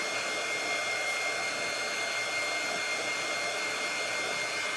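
A hair dryer blows steadily on a primitive Halloween centerpiece craft, a constant close whooshing drone with no pauses and no one talking.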